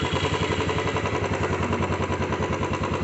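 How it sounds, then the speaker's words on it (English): A Royal Enfield Classic 350 BS6 motorcycle engine runs loud and close with a rapid, even thumping beat throughout. "As you can see, he is turning on the bike using a self."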